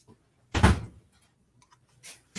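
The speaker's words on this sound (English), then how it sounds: "I just got to shut this door quick." A door shut quickly indoors gives one loud, short thump with a brief rattle, followed by near silence and a softer knock a moment later.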